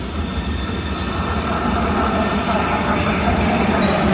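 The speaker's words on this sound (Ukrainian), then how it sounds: "О, а це вже звичайна електричка." A regular electric commuter train rolls past at close range in Cologne, Germany, giving a loud, continuous rumble of wheels on rails with high metallic squealing that holds through the whole passage, with no voices.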